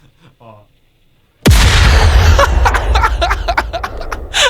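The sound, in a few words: explosion sound effect played on a podcast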